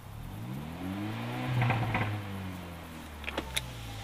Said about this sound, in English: When you go full throttle and very fast, it's extremely loud, because this car has the performance exhaust from AMG